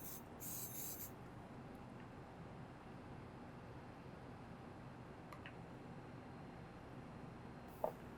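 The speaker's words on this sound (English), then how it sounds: "First, put a Pam spray on it." A short hiss of Pam cooking spray coats a muffin pan, one quick burst near the start, followed by quiet room tone and a faint click near the end.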